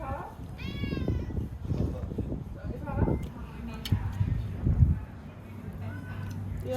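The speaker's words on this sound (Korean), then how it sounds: "고양이." A cat meows a few times in a rising, wavering call near the start, close by, while people chat over a busy restaurant background in Patong, Phuket.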